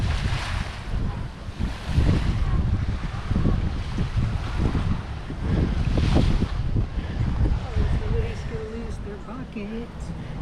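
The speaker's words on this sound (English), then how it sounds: "Over here by myself with the waves lapping" Ocean waves lap on the shore at Bahia Honda State Park in the Florida Keys, a steady close wash of surf under wind buffeting the microphone, with faint voices in the background.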